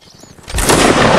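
A musket volley from a Napoleonic Wars line battle in a video game erupts after a quiet lead-in, a loud massed crack that rolls on into a sustained roar of overlapping shots.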